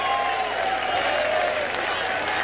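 A boxing crowd applauds and cheers both fighters at the end of the Johnston vs Castillo bout, a dense, loud, continuous wash of clapping that fills the whole moment.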